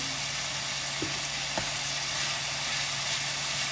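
Beef stew pieces browning in a hot pan, giving a steady, close sizzle and hiss with a couple of faint clicks, and no voices.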